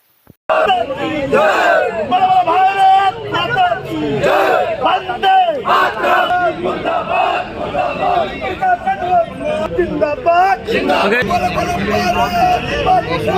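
Akhil Bharatiya Vidyarthi Parishad student protesters chant slogans outside the Gwalior SP office, a loud crowd of voices shouting in rhythmic unison with babble between the chants.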